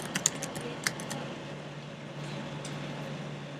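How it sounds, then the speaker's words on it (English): Quiet keyboard typing, a few quick key clicks at the start, then a faint steady hum with a couple of soft taps. "So let me see as I start typing."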